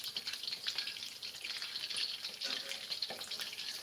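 Garlic chicken pieces frying in hot oil, a steady bright sizzle and crackle with irregular pops, close and continuous with no talk.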